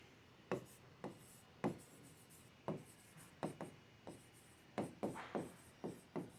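Chalk or marker scratches across a board during an accounting lesson, coming in quick, crisp strokes and short bursts. The strokes are fairly close, with brief pauses between words.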